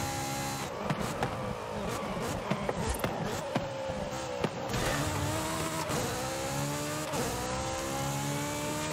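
An A-class car drives in Forza Horizon 5, a continuous engine drone with rising and falling pitch as it shifts and accelerates, with light tire and impact ticks throughout.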